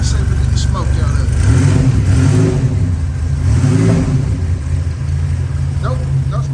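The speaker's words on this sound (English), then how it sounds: "Got a good sounding exhaust." Turbo Buick Grand National with about 32,000 miles, left abandoned, its engine revving in a loud, close exhaust rumble that rises and falls over a steady idle, with someone speaking over it.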